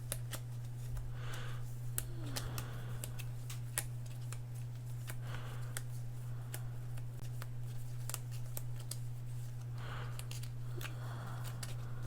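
Cards being shuffled repeatedly, crisp riffling bursts and snaps over a steady low electrical hum, close up with no talking.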